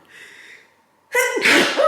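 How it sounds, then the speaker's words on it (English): A single loud, sharp sneeze bursts out after a brief quiet inhale, close to the listener. "oh, I have to sneeze, I'm sorry, hold on."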